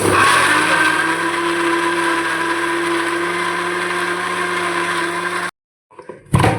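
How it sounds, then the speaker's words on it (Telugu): A mixer grinder powders cloves, cardamom and cinnamon with a loud, steady whirring motor that runs for about five seconds, then stops abruptly. A brief rattle follows. "దీన్ని పౌడర్ చేసుకుందాం మనం మనం మిక్సీ పౌడర్ చేసుకుందాం"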